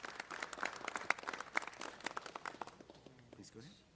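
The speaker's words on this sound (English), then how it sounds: "Let's give them a round of applause." A small audience at a city council meeting gives brief, scattered applause that fades out after a few seconds, and a voice starts speaking faintly as it ends.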